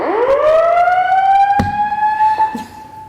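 Building emergency alarm siren rising in a sweeping wail to a sustained high tone, loud and close, with a few sharp clicks and knocks over it.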